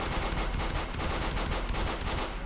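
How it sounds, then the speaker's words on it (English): Gunfire in the video game Arma 3, a dense continuous rattle of rapid shots with an automatic-fire rhythm, loud and close throughout, with no talking. "They're shooting at me!"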